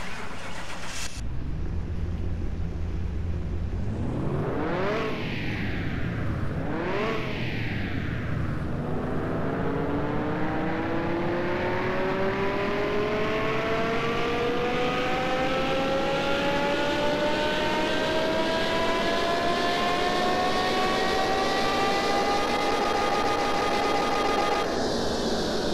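A Porsche Carrera GT engine revs on a dyno in Car Mechanic Simulator 2021. Two quick throttle blips lead into a long, steadily climbing, loud high-pitched wail that holds near the top before cutting off.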